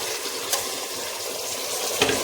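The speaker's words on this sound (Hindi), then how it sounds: "इसको अच्छे से भून लेंगे, महक चली जाए मटन की।" Mutton pieces frying in a pot at the start of a stew, a soft steady sizzle with a couple of faint stirring knocks, quiet and close.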